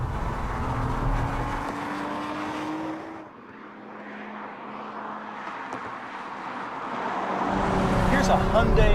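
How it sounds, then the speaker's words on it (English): A Hyundai Genesis Coupe's V6 engine drones steadily while driving, fading briefly before swelling louder near the end, with a voice talking over parts of it. "Here's a Hyundai sports car with a better sounding V6 than the Nissan 370."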